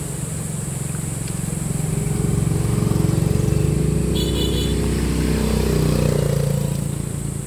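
A motorcycle engine drones steadily while riding along a long rural pathway, close and loud with a buzzing, slightly rising and falling tone throughout.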